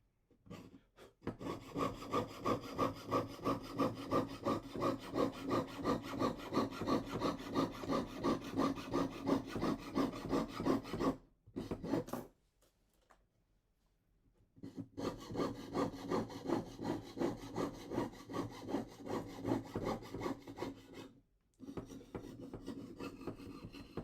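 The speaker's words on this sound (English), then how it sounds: "keep moving the saw up and down, pull the blade back slightly and rotate" Steady back-and-forth rasping of a jeweller's saw cutting Irish slate, fast regular strokes, close up, with two short pauses.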